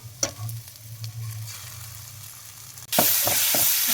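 Ground pepper spice paste of coriander, cumin and onion hitting hot oil with country chicken, a quiet low sizzle that bursts into a loud, bright frying hiss near the end with a few stirring knocks.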